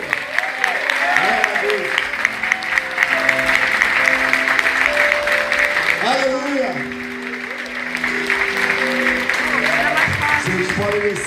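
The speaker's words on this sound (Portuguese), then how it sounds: "Pode aplaudir o Senhor aí?" A church congregation applauds steadily during a service, with sustained clapping under voices that call out and sing over it, the clapping briefly dipping midway before swelling again.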